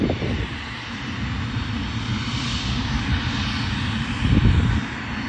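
Airplane engine idling near a runway, a steady broadband roar with rumbling low end, moderately close and rising slightly near the end.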